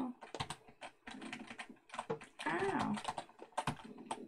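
Computer keyboard typing during an Undertale speedrun, quick irregular key clicks repeating throughout, close and fairly loud, with a voice and pained exclamations over part of it.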